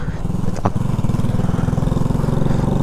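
Shineray 50cc motorcycle engine running in gear while riding, a steady close puttering drone with a fast even pulse, a brief click near the start, and someone speaking at moments.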